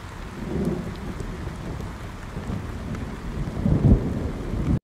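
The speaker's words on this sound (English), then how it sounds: "Let's see if we can type here forest rainstorm." A forest rainstorm sound effect sample plays as continuous heavy rain with low rolling thunder that swells toward the end, steady and close with no voices.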